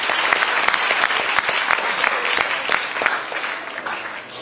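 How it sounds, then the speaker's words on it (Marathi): A crowd claps hard and fast, a thick burst of applause with sharp individual claps standing out, fading slightly toward the end. "एकदा जोरदार टाळ्या वाजवायच्या."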